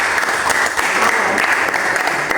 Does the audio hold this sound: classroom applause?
yes